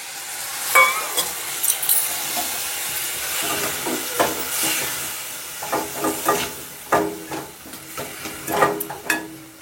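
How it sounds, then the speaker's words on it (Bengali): Water poured into mustard paste in a hot pan sizzles and hisses loudly, with bursts of steam and stirring scrapes rising and falling close by, no talk. "জল দিয়ে দিচ্ছি।"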